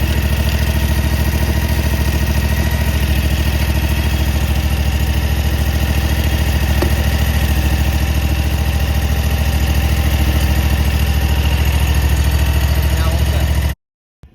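A lawn mower engine runs steadily after a jump start, an even, loud idling chug with a throbbing low rumble that continues unbroken before cutting off abruptly at the end.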